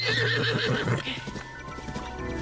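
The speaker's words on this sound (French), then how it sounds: "je vais récupérer un cheval aussi" A horse in the Zelda: Breath of the Wild video game lets out a wavering neigh followed by rhythmic clip-clopping hooves, loud and close, with game audio underneath.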